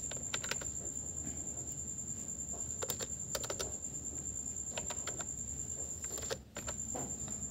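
A roll number is typed on a computer keyboard: bursts of crisp key clicks in small clusters with short pauses between them, close up over a steady faint hum, with no talking.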